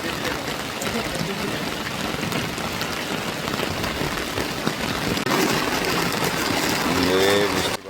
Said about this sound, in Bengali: একেবারে ঝুম বৃষ্টি।